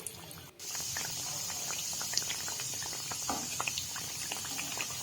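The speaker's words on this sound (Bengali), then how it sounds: "হাত দিয়ে একটু চ্যাপটা করে তেলের মধ্যে ছেড়ে দেবো" Matar kachori fry in hot oil, a steady crackling bubbling patter with scattered pops, moderately close and fairly quiet.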